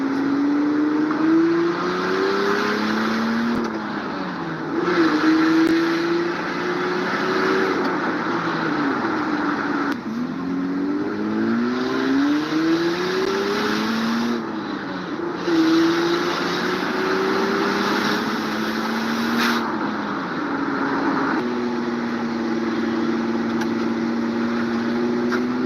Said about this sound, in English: your little sneak peek of the turbo sleeper minivan